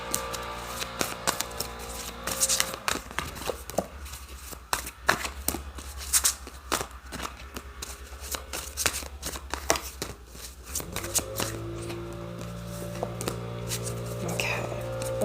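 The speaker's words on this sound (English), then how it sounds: "I'm going to pull a few tarot cards" Tarot cards are shuffled up close: a dense run of crisp riffling clicks and soft slaps that keeps going for the whole stretch, with a quiet voice now and then.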